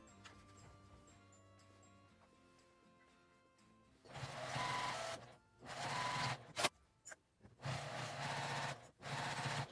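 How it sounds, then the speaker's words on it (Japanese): A sewing machine runs edge stitching on a fabric mask in short bursts of steady, close mechanical whirring, separated by brief pauses, after a quiet stretch of faint background tones. "上下にアイロンを当てて端ミシンをかけます。"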